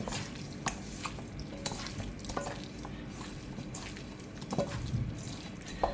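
Garlic frying in a pan for Malaysian turmeric chicken (ayam kunyit), a steady close sizzle with intermittent scraping stirs and light clinks of a utensil against the pan.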